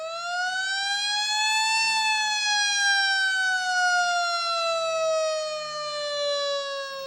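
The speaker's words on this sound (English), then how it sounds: "firefighters were alerted to a fire using sirens" A loud, sustained wailing community fire alarm siren with a single long tone that rises slightly, then slowly falls in pitch, rich in harmonics and heard alone.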